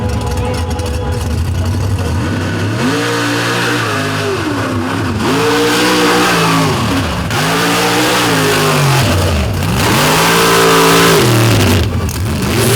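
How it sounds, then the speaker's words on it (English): A modified 1994 Jeep Wrangler on big tires revs its engine hard and repeatedly at a drag racing event, loud rising and falling engine pitch throughout, with faint talk underneath. "This is a 1994 Jeep Wrangler built by his father, Gino Gugino."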